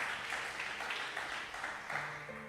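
A church congregation applauds during a sermon, a soft, continuous patter of many hands with slight surges, fairly distant and alone.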